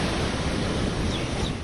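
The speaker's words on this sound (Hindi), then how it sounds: "लहरें खतरनाक तरीके से ऊंची उठने लगी हैं।" Rough sea waves churn off the Odisha coast ahead of Cyclone Yaas, a dense, unbroken roar of surf and wind that stays loud and steady throughout.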